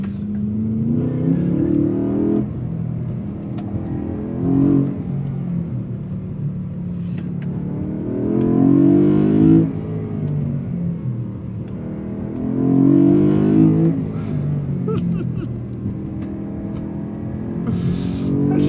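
BMW E92 M3 engine on the move, loud and close from inside the car, rising in repeated revving pulls with gear changes between, a strong rumbling drone throughout and no talk.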